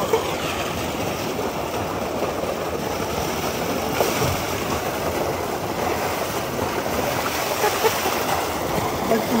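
Water flows steadily at a bathing spot, a continuous broadband rush that fills the whole stretch at moderate level with no clear pauses.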